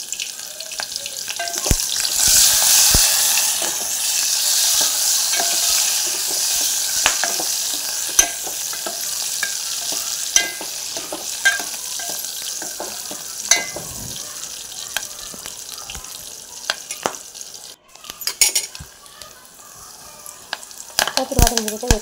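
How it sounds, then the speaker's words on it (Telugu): Thinly sliced red onions frying in well-heated oil, a loud steady sizzle that eases over time, with frequent sharp scrapes and knocks of a spoon stirring the pan. "ఆయిల్ బాగా వేడెక్కాక తెల్లవాళ్ళు ఎర్రగడ్డలు అయితే వేసుకోవాలి సన్నగా కట్ చేసుకొని"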